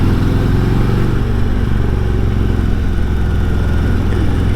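A Harley Davidson Road Glide Special engine running loud and close, a dense, continuous low rumble that stays fairly even throughout, with no talking.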